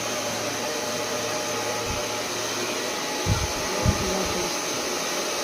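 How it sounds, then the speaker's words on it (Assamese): Hair dryer blowing steadily while hair is dried and styled for straightening, a constant whooshing motor hum held close and even, with a couple of soft bumps of handling partway through. "বায়ে ড্ৰায়াৰ উপাইছে"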